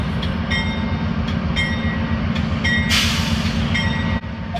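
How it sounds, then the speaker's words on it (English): An Amtrak passenger train rolls slowly, its steady rumble and rhythmic wheel clicks close by, with a brief hiss of air near the three-second mark and a faint squeal of wheels. "Amtrak PO 91 gets the approach and rolls slowly south"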